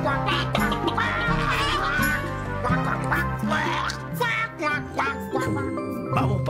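Ducks quack and honk in loud, repeated bursts close by, overlapping with faint jingling in a busy, animated scene.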